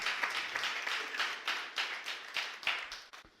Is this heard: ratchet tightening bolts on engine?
no